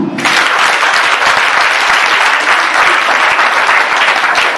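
A church congregation bursts into loud, dense applause during a worship service, with many hands clapping steadily and evenly throughout without pause.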